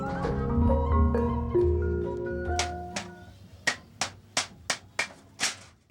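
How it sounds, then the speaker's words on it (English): Music plays briefly, then a hammer bangs on a thin metal oil can, shaping a dustpan, about eight times in a quick, fairly even rhythm, sharp and close. "With a few bangs of a hammer and a little paint, Nilo creates a practical, sellable item, a dustpan."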